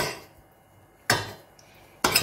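A utensil roughly chops boiled potatoes in a bowl, giving two sharp clinking knocks about a second apart, close and clear with no talking over them.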